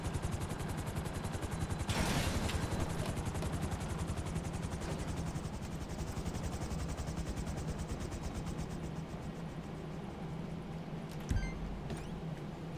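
Thruster jetpack flying in GTA Online, a steady loud whirring drone with rapid pulsing throughout, plus a brief whoosh early on and a sharp thump near the end.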